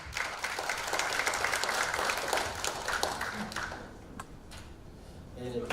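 A crowd applauds warmly at a Korean education-reform debate forum as a speaker is welcomed to the stage. The clapping is dense and steady for about four seconds, then thins out and fades.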